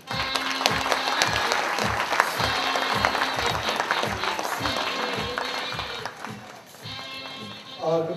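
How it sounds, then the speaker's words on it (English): An audience at an electricity market operations review claps warmly and steadily over music with a regular beat, then the applause fades and a voice comes in near the end. "Please all welcome with a warm round of applause"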